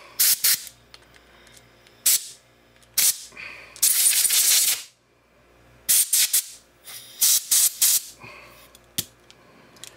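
Compressed air blown in sharp, loud hissing bursts through a 1998 Evinrude 5 HP outboard motor carburetor just out of an ultrasonic cleaner, some short, one longer, separated by quiet pauses at close range.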